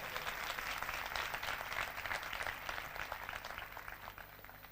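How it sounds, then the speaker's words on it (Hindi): A sermon congregation gives a dense, sustained round of applause, steady and fairly close, slowly easing off over several seconds. "उसके लिए जोरदार तालियां बजाइए।"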